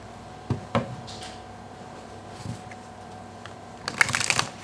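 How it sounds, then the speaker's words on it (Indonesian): Tarot cards are shuffled by hand, with a few soft, separate slaps and riffles followed by a denser burst of card flicks near the end, heard close in a quiet room. "ketika aku shuffle kartu ini"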